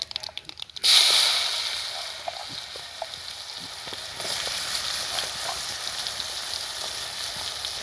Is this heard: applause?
no